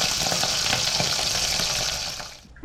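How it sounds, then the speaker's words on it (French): Beef short ribs sear in a pan over high heat, giving a loud, steady sizzle and spatter that fades slightly at the end. "Commencez par faire saisir vos morceaux de plat de côte de bœuf dans une casserole à"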